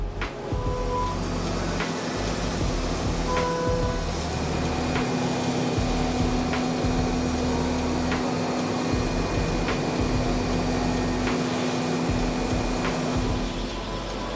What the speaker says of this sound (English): A bunch of our CNC mills are running different parts for the tool.